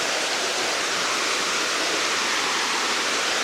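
River water flows low after several hot days, a steady broadband rushing that holds evenly throughout with no voices.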